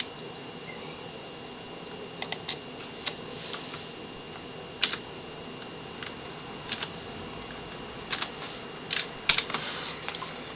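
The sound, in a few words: typing an access code on a keyboard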